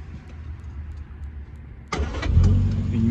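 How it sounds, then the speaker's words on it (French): A Triumph GT6 engine cranks and catches at once, settling into a loud, steady idle right after starting, with no talk over it. "Une mécanique qui démarre au quart de tour."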